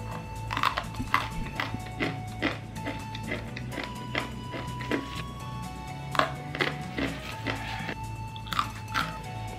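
Close, crunchy chewing and biting while eating mie lidi noodles in a mukbang, irregular bursts of soft clicks and crunches throughout, with no talk.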